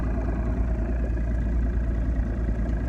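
Outboard boat engine idling steadily on a lake while fishing over a submerged road bed, a continuous low rumble with no talk.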